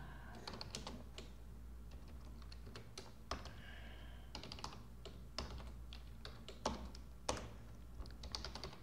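Rapid, uneven clicking of a computer keyboard while code is typed, close and fairly quiet, with irregular taps and occasional louder keystrokes, no speech.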